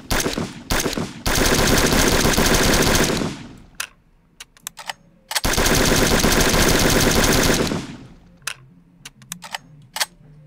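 Two long bursts of rapid automatic gunfire from a gun in the stealth video game Sneak Thief, loud and close, each a few seconds long, separated and followed by scattered single shots and short clicks.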